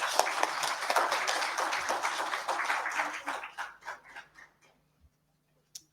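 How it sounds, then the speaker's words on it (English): Audience applause at a keynote event welcomes a speaker, a moderate burst of clapping that thins into a few scattered claps and then fades to near silence. "Please give them a round of applause."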